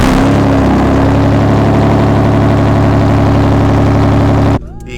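A V8 engine fitted in a BMW E36 rumbles loud and close through its exhaust at a steady idle, then cuts off abruptly just before the end, leaving near quiet.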